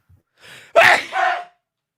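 A single sharp sneeze, preceded by a short breathy inhale, then a brief vocal tail as it fades; close and fairly loud.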